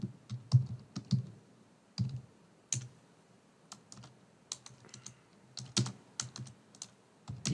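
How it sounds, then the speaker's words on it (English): Typing on a computer keyboard: irregular bursts of key clicks with occasional louder keystrokes, close and clear, no speech. "in the email subject, I'm going to type here"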